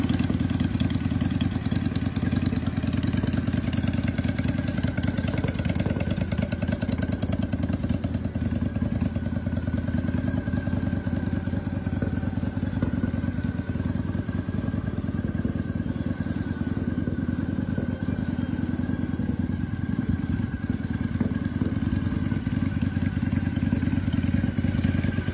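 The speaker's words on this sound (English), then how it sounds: "A reliable and stylish 2003 Honda Shadow in a vibrant orange finish, offering classic cruiser appeal with smooth performance." Orange 2003 Honda Shadow cruiser motorcycle engine running steadily, a continuous low rumbling drone with mechanical clatter, close and unbroken throughout.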